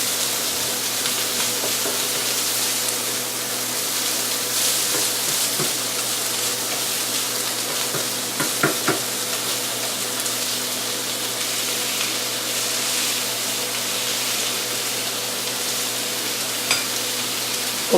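Ground beef fries with garlic in a pan, giving a constant close sizzle with occasional stirring scrapes and no voices.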